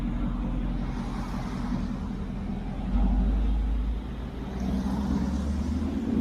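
A GT muscle car's engine rumbles nearby with a steady, deep idle that swells briefly louder partway through, with no talking over it.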